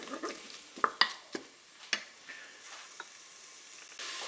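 Curry-spiced food is stirred in a Cookeo pot, with a spoon knocking out a few sharp, separate taps and scrapes against the pot over a faint, quiet background.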